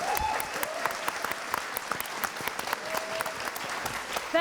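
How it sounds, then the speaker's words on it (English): An audience at an opening ceremony for an international cultural event claps steadily and fairly close, a dense patter of applause that continues evenly throughout with no voices over it. "Can I have a round of applause for your welcome ceremony?"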